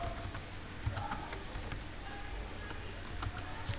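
Computer keyboard typing taps out quick, light keystrokes close by in short bursts over a low background hum, with no voices.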